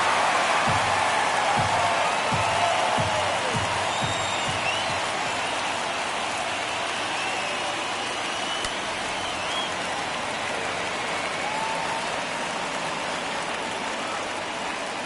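Stadium crowd in the baseball video game MLB The Show 22, a dense, steady roar of many voices with a few low thumps early on, filling the whole clip without any clear speech.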